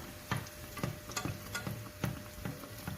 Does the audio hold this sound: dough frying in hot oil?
yes